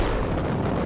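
A grenade launcher shot booms in Battlefield 4, a loud, dense blast of rumbling noise that fills the whole moment without any talk.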